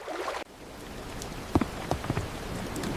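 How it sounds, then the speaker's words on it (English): Steady rain patters on a surface, with a few louder drips and splashes standing out near the middle, no voices. "It is raining outside."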